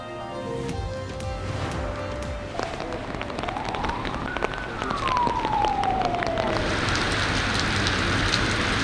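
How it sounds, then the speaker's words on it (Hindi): Heavy monsoon rain pours steadily in Karachi, a dense, constant roar of drops on surfaces, with a siren briefly rising and falling in the background. "मुख्तलिफ इलाकों में जमकर बारिश"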